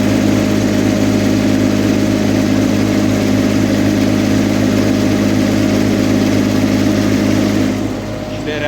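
A GAB-2 portable 4 kW generator runs steadily under a household load during a power outage, its engine droning loud and constant with a steady hum before easing off near the end.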